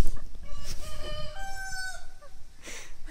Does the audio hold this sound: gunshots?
no